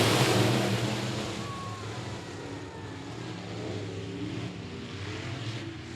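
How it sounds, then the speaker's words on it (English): Engines of stock cars at a short-track speedway race start rev and rise together, a broad distant roar that swells slightly and holds steady, with faint crowd and track ambience around it. "Lights are out. Here we go. Revving up those engines."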